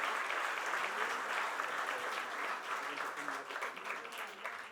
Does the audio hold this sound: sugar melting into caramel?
no